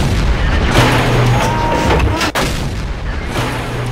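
The E-25 tank destroyer in a tank video game fires its cannon with a loud, sharp boom that cuts through a constant rumble of engine and battle noise.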